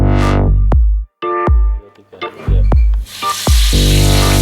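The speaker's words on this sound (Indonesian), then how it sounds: "Tuangkan bumbu bawang merah dan bawang putih yang telah dihaluskan ke dalam minyak panas." Ground shallot and garlic paste hits hot oil for a spicy squid sambal, loud close sizzling and crackling with stirring and clanks of a utensil against the pan.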